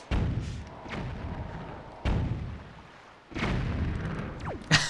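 Bombs explode in a Wind Waker randomizer game, three deep booming thuds spaced about a second or two apart, each decaying into a rumble, with a short whistling sweep at the end.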